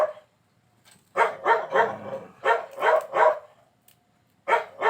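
A dog barks in quick clusters of three or four sharp barks, with short pauses between the bursts. The barking is fairly close and clear.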